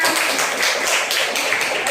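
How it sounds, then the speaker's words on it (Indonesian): A class of students claps together in a classroom during an Islamic religious education lesson, producing dense, fairly loud clapping for about two seconds. "Tepuk tangan semuanya."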